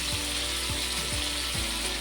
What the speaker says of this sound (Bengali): এখন এই তেলে আলুগুলোকে ভেজে নেব।